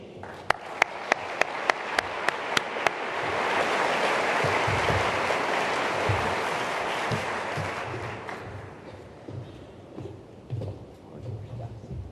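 An audience at a cystic fibrosis conference plenary session applauds as speakers are welcomed to the stage; a few sharp claps open into sustained, full applause for several seconds before fading into quieter room noise.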